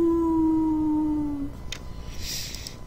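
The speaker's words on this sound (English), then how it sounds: "he lifts his head up and he lets out a howl that everyone back at camp can actually hear too" A single long dog or wolf howl rings out clearly, holding a steady tone and slowly falling before fading into near silence.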